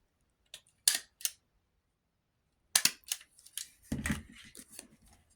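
Scissors snip through a craft sample at the bottom edge, a few sharp close cuts with gaps between, followed by some rustling handling of the material.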